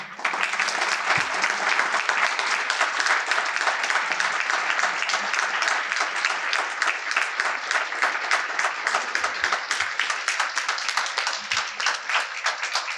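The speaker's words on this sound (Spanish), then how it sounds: "Un fuerte aplauso" A lecture audience gives sustained, dense applause, many hands clapping at an even, loud level for the full stretch with no talk over it.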